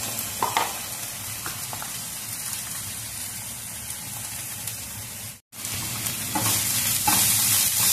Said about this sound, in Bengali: রসুনের পরিমাণ একটু বেশি দিতে হবে। ভালো করে ভেজে নিতে হবে।